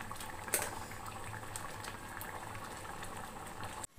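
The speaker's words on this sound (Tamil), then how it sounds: "இப்போ நல்லா கொதிக்குது" Rice boiling hard in a pot for biryani, giving a steady, close bubbling and popping texture with a few sharper pops. It cuts off abruptly just before the end.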